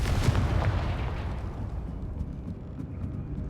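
Confringo fire spell blast in the video game Hogwarts Legacy, a loud burst at the start that rolls into a long, rumbling explosive decay, with no speech.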